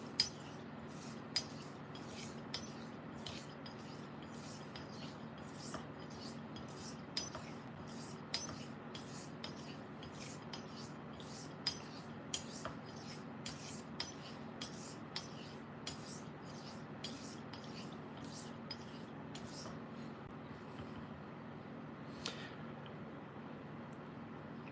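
A straight razor is honed on a sharpening stone, with soft repeated scraping strokes in an even back-and-forth rhythm, close and quiet, occasional small clicks between passes.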